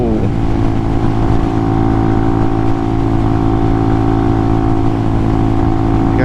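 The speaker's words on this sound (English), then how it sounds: "It sounds like my RPMs just popped up higher real quick." A 2022 Hawk 250 motorcycle engine hums loudly and steadily while riding, with its revs holding high and a faint rise in pitch, heard up close without talk.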